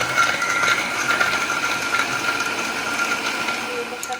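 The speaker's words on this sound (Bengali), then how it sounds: "আমি এটা ব্লেন্ড করে নিচ্ছি।" A kitchen blender whirring through onion paste, ginger paste and chili powder, giving a steady, close motor whine with a slight rattle and little change in pitch over a few seconds.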